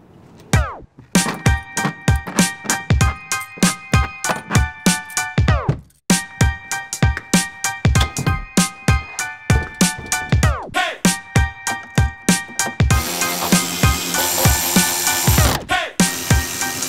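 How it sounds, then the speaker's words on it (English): Electric ratchet with a Torx 50 bit driving Jeep Wrangler hard top bolts, loud close bursts of whirring clicks in quick repeated runs with brief pauses, ending in a longer buzzing drive. "I'm going to use my electric ratchet with a Torx 50 bit."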